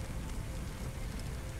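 A fire hose sprays water onto flames in the Firefighting Simulator game, producing a steady, dense hiss of spray and splashing that sounds like heavy rain, with no talking.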